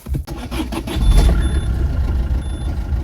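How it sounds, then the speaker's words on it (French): A car with an engine warning light on the dashboard starts up and runs unevenly, a loud low rumble with irregular pulsing close by, with no talking. "Je vais te la démarrer et donc il y aura un voyant moteur au tableau de bord."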